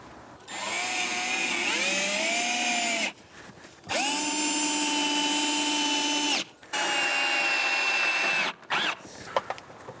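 A cordless power drill unscrews a fixture during home electrical work, its motor whining up loudly in three sustained runs of a few seconds each, separated by brief pauses and followed by a few light clicks.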